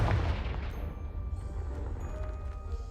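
A magical Confringo blast in Hogwarts Legacy: a dense, rumbling burst with crackling debris and a low roar that fills the space and gradually settles, with faint ringing tones trailing behind.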